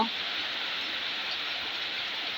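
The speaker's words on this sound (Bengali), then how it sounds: "সিলেটের অবস্থা খারাপ তো সবাই জানেনি" Heavy rain pours down in Sylhet as a dense, even hiss of falling water that stays unbroken and fairly close throughout, with no clear talk.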